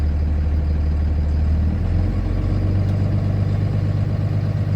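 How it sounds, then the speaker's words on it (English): A Class B truck engine is pressed on the fuel to about 1000–1200 RPM during an air brake governor cutout test, giving a loud, close, steady diesel drone whose low pitch rises after a couple of seconds and then holds. "To accelerate the process, I'm going to press the fuel, not exceeding the 1200 RPMs."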